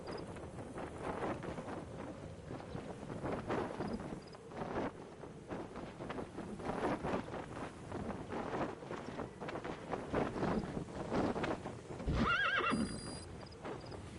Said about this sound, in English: They've delivered a horse.